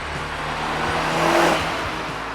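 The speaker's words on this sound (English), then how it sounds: "Off the line, it's full of traction, and it's a properly quick car." A 2002 Audi S3 with a six-speed manual pulls away hard from a standstill, its engine note rising steadily and loudly, peaking in the middle before easing slightly, with no talk over it.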